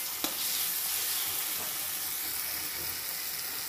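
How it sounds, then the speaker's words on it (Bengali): Spice masala frying and being stirred in a hot pan in a home kitchen, a loud, continuous broadband sizzle with a single metallic tap at the start and no voices. "তারপরে মাংসটা দেবো"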